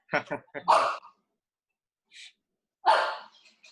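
A dog gives two short, sharp barks close by, separated by a pause, with breathy sounds and a snuffle in between.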